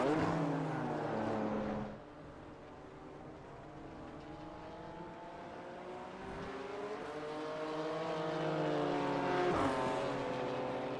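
BMW M2 Cup race cars at Oulton Park rev and shift as they pass, engine notes rising through gears, fading briefly then building again as more cars approach, moderately loud and somewhat distant.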